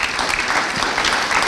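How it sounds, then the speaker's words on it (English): A crowd gives volunteers a round of applause, a brief burst of dense, continuous clapping heard at full strength from start to end. "Let's give you all a round of applause right now."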